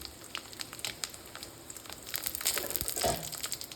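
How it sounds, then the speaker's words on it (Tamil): Dried red chilies crackle and sizzle in hot oil as tempering for a ridge gourd dish, a busy, continuous frying noise that swells louder toward the end. "இப்போ வரமிளகாய் சேர்த்துக்குவோம்."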